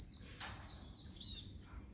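Faint, continuous bird chirping and tweeting in a garden, high and thin, with a soft background hum and no voices.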